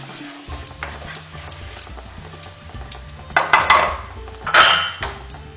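Chicken 65 being mixed with curry leaves in a bowl, a spoon clinking and scraping against the dish in an irregular rhythm, with a couple of louder clatters near the end and no voices.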